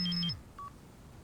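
A short run of cellphone keypad tones from the Voltes V Legacy series: a few quick paired high beeps over a low hum that drops away, then one brief tone, clear and close.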